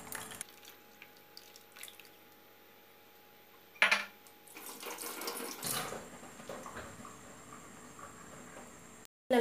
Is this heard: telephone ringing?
no